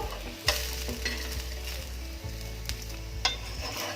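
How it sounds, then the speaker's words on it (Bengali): Rava uttapam (sooji uttapam) frying golden brown in a pan, a steady close sizzle with a few sharp clinks and scrapes of a spatula against the pan. "এবার এটাকে একটু গোল্ডেন ব্রাউন করে ফ্রাই করব"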